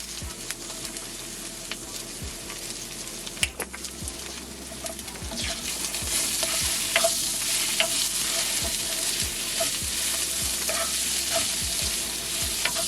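Red pepper, green pepper, onion and garlic frying with thyme and seasoning in a pan, a soft continuous sizzle that grows louder partway through, with scattered light taps and scrapes of stirring.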